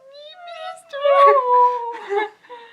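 A human voice mimics a baby kitten's whimper with high, wavering, mewing cries that rise and fall in a few drawn-out bursts, loud and close, sounding half like whiny speech.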